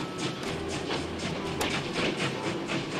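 A train arriving in the indie horror video game A Dark Place, heard as a steady rolling rumble with faint rhythmic rail clicks at moderate level and no voices.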